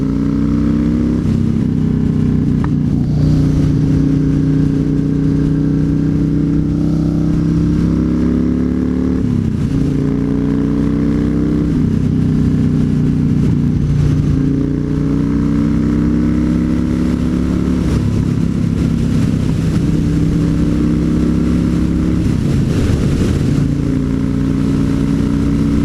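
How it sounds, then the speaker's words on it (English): Yamaha Raider motorcycle with a 113-cubic-inch engine at full throttle on a highway, loud and close, its engine note rising through each gear with brief dips at the shifts, steady wind roar underneath. "I'll show you what it's like to go through the gears on a Yamaha Raider at full throttle."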